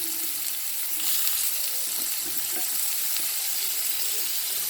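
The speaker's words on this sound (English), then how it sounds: "Now stir fry this also for 2 minutes" Spring onion whites stir-fry with ginger and garlic in a hot pan, making a loud, dense, continuous sizzle with stirring scrapes throughout.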